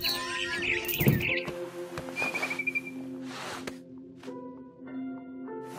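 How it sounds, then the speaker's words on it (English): Chirpy, whistled barn swallow calls from the video game What Remains of Edith Finch in short bursts over a tonal electronic background, with a quick trill and scattered tweets rather than natural outdoor ambience. "I heard chirping outside my window. It was a barn swallow going back to her nest."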